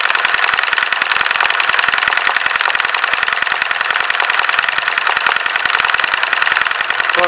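An electric sewing machine stitching simple flowers runs in a fast, steady mechanical rattle, close and loud, as if straining and faltering, with no voices.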